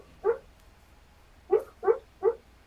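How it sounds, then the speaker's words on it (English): A dog barks four times in separate bursts, one early and then three in quick succession, moderately close and clear over a quiet indoor background. "Can you hear my dog barking?"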